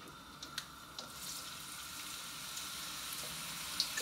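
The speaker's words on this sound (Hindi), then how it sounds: "इसके अंदर प्याज ऐड करने लगी हूँ" Onions sizzling in hot oil as a chicken masala is started, a steady bright frying hiss with a few small pops and crackles throughout, close and continuous with no talking.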